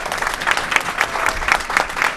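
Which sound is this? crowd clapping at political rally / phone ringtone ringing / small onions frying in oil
crowd clapping at political rally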